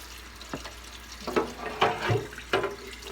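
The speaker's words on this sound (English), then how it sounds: "that sink water is pretty nasty." Water running in a sink, a low steady flow broken by several splashing, sloshing bursts as something moves under the stream.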